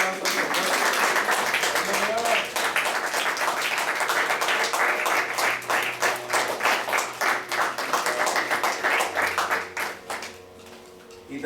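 At a Wednesday Bible study, the congregation gives a strong round of applause for the Lord, with quick, rhythmic clapping running throughout, voices and a steady tone underneath, thinning toward the end.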